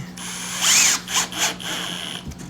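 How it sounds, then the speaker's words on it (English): Power drill driving screws into the back of a 25L subadult rack, a few short whirring bursts with ratcheting clicks, close and fairly loud, no talking. "I'm using a drill."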